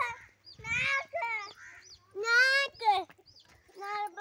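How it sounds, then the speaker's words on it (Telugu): Roosters and fighting cocks cluck and crow in a yard, several harsh, loud calls in close succession, some drawn out, heard at close range. "కోడి పుంజులు, పందెం కోళ్ళు."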